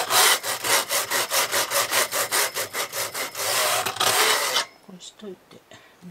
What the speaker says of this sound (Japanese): ヤスリブロックみたいな、サンダーブロックとかこれもいい。